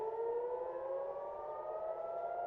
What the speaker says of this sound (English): in the last 60 minutes exactly, we have heard this siren go off 5 times now.